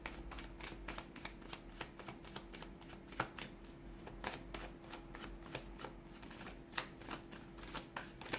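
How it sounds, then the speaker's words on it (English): Rapid riffling tarot card shuffles, a steady run of crisp flutters and snaps close by with no talk, repeating throughout. "give the cards a shuffle"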